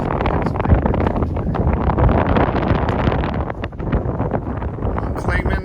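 Strong December wind buffets the microphone on the Clingmans Dome summit, a loud continuous roaring gust with heavy low rumble, steady almost to the end.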